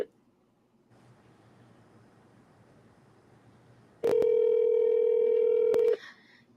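A steady telephone tone sounds for about two seconds after a stretch of faint line hiss, then stops abruptly, close and clear with no talk.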